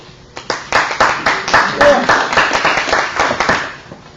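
Audience applause after a speaker's introduction at an apprentice leaders gathering, a steady run of hand claps rising quickly and continuing at moderate volume for several seconds with a faint voice underneath.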